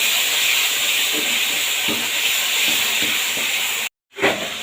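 Hilsa and ash gourd sautéing in a pan with green chillies, cumin, turmeric and salt give a steady, close hiss of sizzling. It runs unbroken, then cuts out briefly near the end before resuming.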